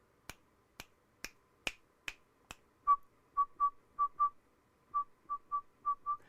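Six sharp, close finger snaps in a steady rhythm, followed by a run of short whistled notes at one pitch in an uneven pattern, all in a quiet room.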